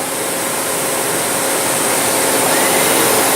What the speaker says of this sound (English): Basket will spin itself into the unload position